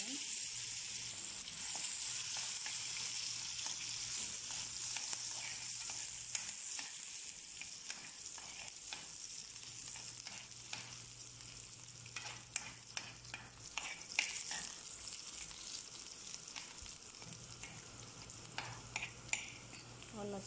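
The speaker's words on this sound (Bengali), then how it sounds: "এই যে পেঁয়াজ কুচি দিয়ে দিলাম।" Chopped onion frying in oil in a pan where fish was just cooked makes a quiet, steady sizzle with scattered crackles and the clicks of stirring. A low hum runs underneath, and there is no talking.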